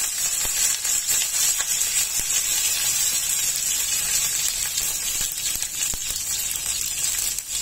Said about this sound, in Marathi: तेल चांगलं गरम झाल्यावर त्यामध्ये अर्धा चमचा राई घालायची आहे। राई चांगली तडतडल्यावर